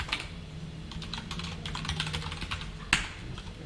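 Quick, crisp keystrokes on a computer keyboard while HTML and JavaScript code for a tab menu is entered, a dense run of close clicks ending with one sharper key strike.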